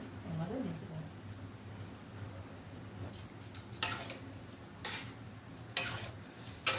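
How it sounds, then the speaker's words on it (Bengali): Garam masala being stirred into dalia khichuri in a pan: a few scraping, clattering strokes land in quick succession over a low kitchen hum. "এবার এটাকে একটু নাড়াবো"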